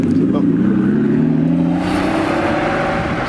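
An Aston Martin pulls away from a car meet with its engine revving and accelerating, loud and close at first, the note shifting and fading slightly as it drives off.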